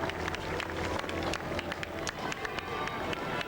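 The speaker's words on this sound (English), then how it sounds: "The crowd applauding." A crowd applauds steadily as the hearse passes during Princess Diana's funeral procession in 1997, a dense and continuous patter of many hands heard at moderate distance.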